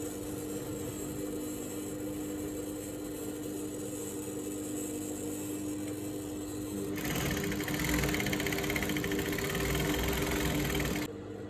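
A sewing machine stitches the hem of a pant leg with a half-inch seam allowance, a steady close mechanical whir that runs throughout and grows louder and faster for the last few seconds before stopping abruptly.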